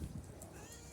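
A cat meows outdoors beside a bonfire in a yard, two short low cries at the start followed by faint background noise, with no speech.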